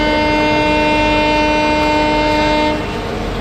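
A loud, steady horn from the Jharkhand Swarna Jayanti Express train, Ranchi route, blares continuously, a sustained multi-tone chord that drops slightly in level near the end over rumbling background noise.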